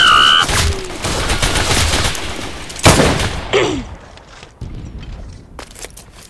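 Video game gunfire in a war setting, bursts of shots and sharp cracks under a busy battle din, loud and near, with a heavy blast near the middle, dropping to scattered shots at the end.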